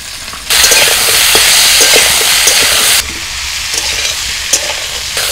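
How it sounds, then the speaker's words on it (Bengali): Freshwater snails are added to papaya, carrot and vegetables already frying in hot oil in a pan; a loud, close sizzle surges as they go in, settles to a steady hiss with faint stirring scrapes, no voices. "পেঁপে, সবজিগুলোকে জাস্ট আমি মিনিট 3-4 ভেজে নিয়েছি। এবার এর মধ্যে আমি গুগলিগুলো দিয়ে দিচ্ছি।"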